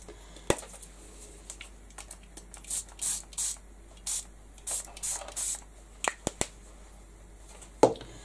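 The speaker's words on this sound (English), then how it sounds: "And these I'm going to spritz with the first with the light blue." Light blue spray paint is spritzed onto small craft pieces in several short hissing bursts, some spaced apart and some in quick succession, with faint clicks and handling taps in a quiet room.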